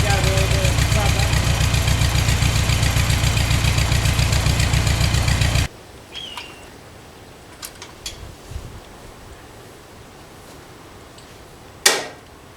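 A Ford 2N tractor engine idles steadily and loud for about six seconds with an even, rapid chugging pulse, then cuts out, leaving quiet background with a few faint knocks and a sharp clack near the end.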